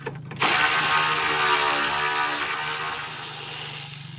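A ratchet works a 10mm bolt loose on a Toyota 3.5L 2GR-FE V6, a close, continuous buzzing clatter that starts abruptly and fades slightly toward the end.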